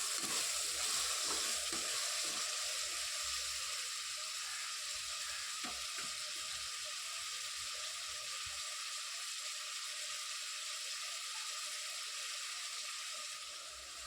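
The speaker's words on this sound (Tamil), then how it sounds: "தக்காளி வந்து நல்லா வதங்கணும்" Tomatoes and green chillies sizzling in a pan with onion-ginger-garlic paste, a steady bright frying hiss with occasional soft stirring scrapes, close and fairly quiet, no voices.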